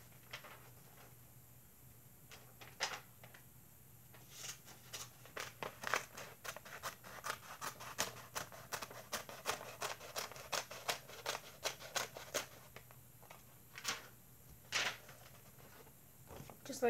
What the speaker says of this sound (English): I'm going to need my scissors to cut the paper.